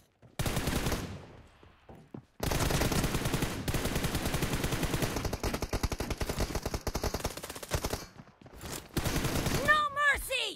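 Rapid automatic gunfire from a shooter video game, sustained bursts filling most of the stretch with brief gaps, loud and close, ending in some lighter game effects.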